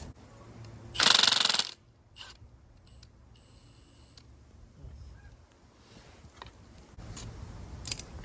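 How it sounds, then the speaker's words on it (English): Impact wrench with a 17mm socket removing a sway bar end link nut under a Subaru BRZ, one loud close buzzing burst of about half a second, then quieter clinks and faint mechanical noise. "use the impact end to get the nut off"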